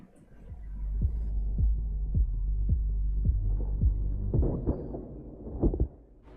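A heartbeat sound effect from the film Dredd (2012): low, muffled thumps repeat at a steady pace over a dull hum, followed by a few louder, heavier thuds near the end.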